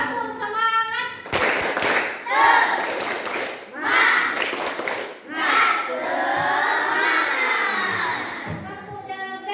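A class of schoolchildren performs a rhythmic 'tepuk semangat' clapping chant in a classroom, with loud shouted syllables punctuated by bursts of sharp, patterned claps, close and energetic.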